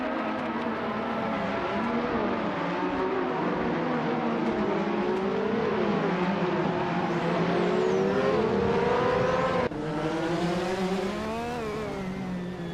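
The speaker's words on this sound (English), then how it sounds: "Elias X98 is driving the McLaren MP44, a car renowned for its agility and technical sophistication" McLaren MP44 race car engine in a racing video game, a loud continuous high-revving drone with rising and falling pitch as it accelerates and shifts, steady throughout with one abrupt shift near the end.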